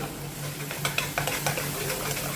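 Chopped shrimp fry in a hot pan while a utensil scrapes and stirs them in quick, close strokes over a soft, continuous sizzle.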